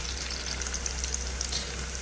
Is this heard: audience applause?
no